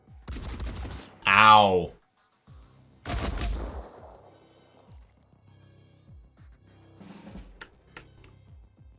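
Gunfire in the game Phoenix Point, sharp bursts of shots at the start and again mid-clip, followed by quieter scattered reports, with someone talking and a brief pained cry.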